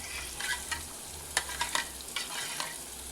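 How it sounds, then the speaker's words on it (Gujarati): Buttermilk being stirred into a cooked spice mixture in a pan for drumstick kadhi, giving a faint steady sizzle with a few soft scraping strokes of a spoon, quiet and unaccompanied by talk. "તો છાશને આ રીતે હલાવી લેવાની."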